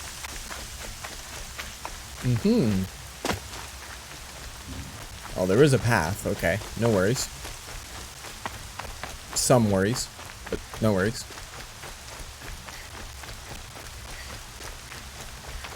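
Steady rain patters over open terrain in the game Horizon Zero Dawn, a constant hiss throughout. A player talks at intervals over it, and brief sharper sounds break through now and then.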